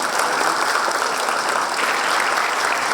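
A steady, dense round of audience applause welcomes a speaker onto the stage at an LG Ignite talk event. The clapping is loud and close and continues without a break.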